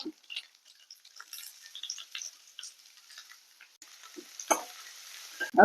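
Chopped onion with curry leaves fries quietly in a pan, a faint crackle with scattered ticks of a spoon and a few louder scrapes toward the end.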